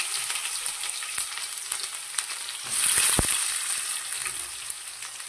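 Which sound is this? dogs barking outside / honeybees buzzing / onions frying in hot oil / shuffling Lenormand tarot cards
onions frying in hot oil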